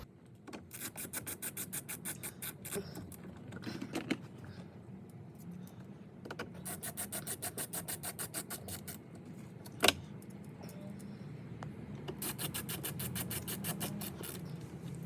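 Phillips screws being driven back into the glove box area of a 2013 Honda Accord V6 during an A/C actuator job, heard as repeated close ratcheting rasps in bursts, with a single sharp click midway.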